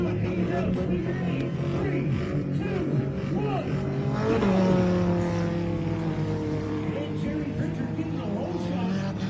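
Race cars in a rear-wheel drive class race, engines droning and shifting pitch together in a continuous close roar with rising and falling tones, a voice talking over it.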